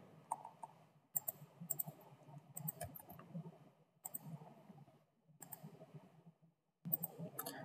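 A contact number is typed on a computer keyboard in quick runs of faint, close key clicks, broken by short pauses of near silence.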